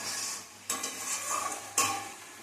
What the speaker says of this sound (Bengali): তো দেখো মশলা কষানো চলছে